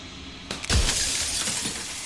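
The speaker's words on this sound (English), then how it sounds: "A crack slides down the center of the mirror, splitting the image and the glass in two." Mirror glass cracking and then shattering into shards in a horror video game, a sharp loud burst of breaking glass followed by a brief tinkling decay, alone without talk.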